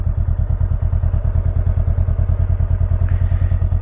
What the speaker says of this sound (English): Clutch in, side stand up, and now I can start it. Push the button right here. The start button.